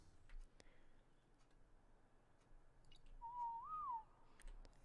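A single short, clear whistle sounds in ARK: Survival Evolved as the command that turns tamed creatures passive. It rises and wavers briefly over quiet background ticks.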